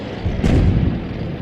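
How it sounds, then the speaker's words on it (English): A single heavy artillery boom in the tank game World of Tanks rolls in with a deep thud and fades over a low rumbling battlefield background. "It looks like the artillery is blind firing."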